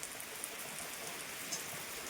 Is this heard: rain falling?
yes